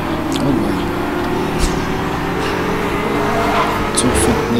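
Porsche Boxster Spyder racing engine from the Need for Speed Hot Pursuit game on Grand Ocean Coast, a steady loud drone with brief pass-by swells, heard alongside speech.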